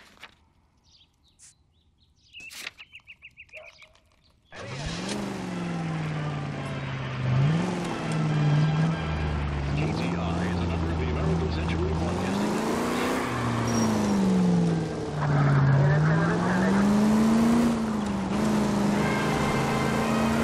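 A car in L.A. Noire pulls away after a quiet start with faint birdsong, then drives on with a steady, loud engine drone that rises and falls as it shifts and revs.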